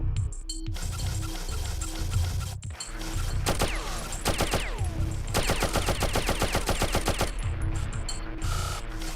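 Rapid gunfire in the 1997 platform game Oddworld: Abe's Oddysee, long bursts of machine-gun fire with metallic clinking and ringing casings, loud and close, broken by brief pauses between volleys.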